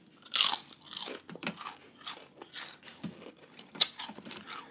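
Crunchy, slightly burnt nacho chips topped with raw fish poke are bitten and chewed up close, giving a run of loud, crackling crunches with brief pauses and no talking.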